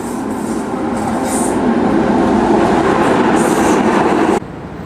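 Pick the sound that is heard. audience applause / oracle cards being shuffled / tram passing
tram passing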